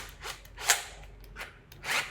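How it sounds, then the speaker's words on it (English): An electric drill spins a brush for cleaning potatoes, giving several short whirring, scrubbing bursts of varying loudness, close to the microphone, with no talk. "you're going to put it in your drill like this"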